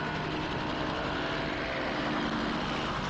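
A small propeller airplane in a 1960s James Bond film scene over a volcano region, its steady droning engine roar filling the whole stretch at constant loudness with no talk.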